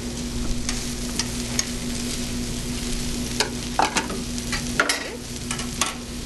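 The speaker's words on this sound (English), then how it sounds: "We're going to start by sauteing our spinach and our mushrooms on the grill along" Garlic, mushrooms and spinach saute on a grill, giving a steady close sizzle with scattered utensil clicks and scrapes and a sharper clatter near the end, with no voices.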